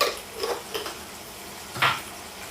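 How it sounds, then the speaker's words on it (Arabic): A spoon stirs chicken in a metal pot while it cooks, a few scraping clinks and knocks against the pot, spaced apart and fairly close. "اول حاجة بنعملها ان احنا بننزل الفراخ بتاعتنا ونقلب"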